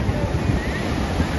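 Ocean waves break at a busy beach in North Goa, giving a loud, continuous rushing surf roar mixed with wind buffeting the microphone.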